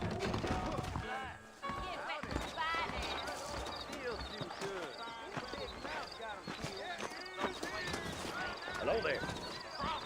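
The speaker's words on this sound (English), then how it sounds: "I got the horses saddled up and ready out front." Horse hooves clip-clop in Red Dead Redemption, a steady soft rhythm of footfalls running beneath a man's continuous speech throughout.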